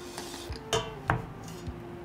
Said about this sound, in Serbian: na dno ću staviti krpu i unutra ubaciti tegle